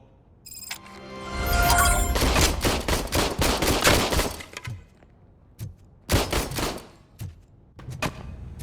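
Gunfire in a video game, a dense burst of shots with glassy shattering that fades into scattered single cracks and thuds, fairly quiet overall with no talking.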